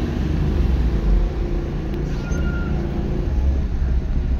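Steady low rumble of street traffic during a congested mid-morning delivery run, cars and larger vehicles idling and creeping close by, with a faint hiss partway through and no talk.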